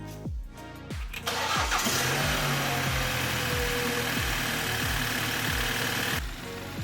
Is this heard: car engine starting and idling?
yes